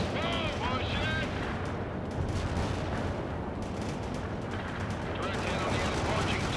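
Weapon fire striking a TOW in the World in Conflict video game: dense, continuous rumbling explosions and gunfire across the whole stretch, with radio chatter from units running over the top.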